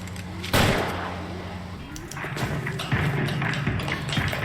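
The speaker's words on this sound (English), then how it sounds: "Okay, he's a bad guy. He's shooting at me." Gunfire from the L.A. Noire video game, a sharp loud shot near the start followed by continuous busy action sounds with smaller cracks and thuds mixed through a steady game soundtrack.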